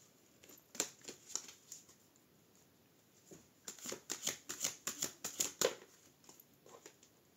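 Oracle and tarot cards being shuffled close by, soft riffling and slapping flicks coming in irregular bursts, sparse at first and then quicker and denser, with no voices.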